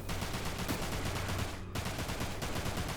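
Rapid, continuous machine gun fire from the Dirge of Cerberus video game, dense loud bursts with a short gap midway, heavy and close with no voices.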